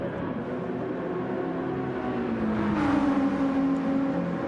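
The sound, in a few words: BMW M6 race car accelerating down back straight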